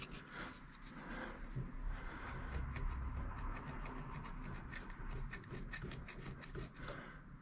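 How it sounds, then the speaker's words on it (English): A hand file draws across metal in a machine shop, giving soft repeated rasping strokes at a steady pace, faint and close with no talk. "you can draw file them with them really quite nicely"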